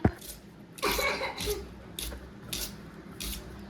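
A child with a cold coughs several times in short, separate bursts, fairly quiet and indoors, with soft breathing between coughs.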